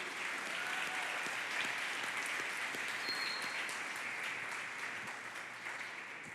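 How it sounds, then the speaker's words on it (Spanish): A church congregation applauds in a dense, even wash of clapping that carries on for several seconds and slowly fades at the end, with no talking over it. "Yo le daría un aplauso al Rey de Reyes."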